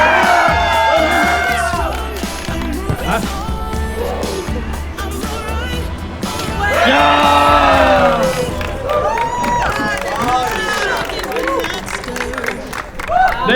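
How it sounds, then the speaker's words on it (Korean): A crowd of fans at a live player event cheers loudly, with whoops, shouts and clapping that swell and fade over several seconds, while a voice talks over the noise. "팬분들 마지막으로 환호 한번 보내주고 싶어요"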